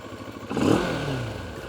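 A Moto Morini Xcape 650 motorcycle engine revs once, rising into a brief mid-pitched growl before settling back to a steady idle, fairly quiet with no talking.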